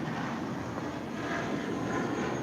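Airliner taking off at LAX, heard as a faint, steady distant jet engine roar with broadband rumble and no speech.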